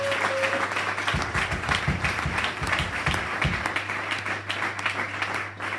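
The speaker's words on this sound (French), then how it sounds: "Acclamons le Seigneur, prenons place." A church congregation applauding the Lord during a service: a short burst of crowd clapping in the middle, moderately loud, set against an ongoing low hum and room noise.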